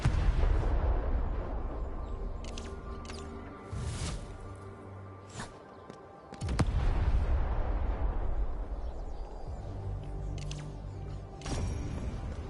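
Bombs go off in Arknights: Endfield with deep rumbling booms, one heavy blast partway through and another later. Whooshes and short sharp pops sit over a steady low roar, with near silence between bursts.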